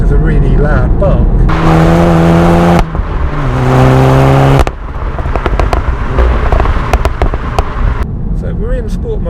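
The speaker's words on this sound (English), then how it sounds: "you can enjoy the exhaust popping and crackling. On the overrun or on upshifts it does a really loud bark." A VW Golf Clubsport S exhaust revs hard through rising engine notes, then cracks and pops on the overrun with sharp bursts, loud and close, with a voice talking at the start and end.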